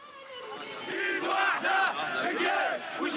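A large crowd in Egypt shouts and chants together in unison, a dense roar of many voices rising and falling in loud rhythmic waves, close and continuous.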